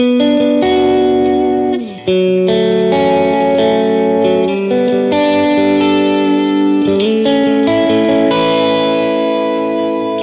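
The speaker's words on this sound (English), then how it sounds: "Get that transparent boost with a little bit of drive and a little reverb and delay." An electric guitar through "The Protein" overdrive pedal plays sustained, overdriven chords and notes with a lush reverb and delay tail, loud and ringing, no voices.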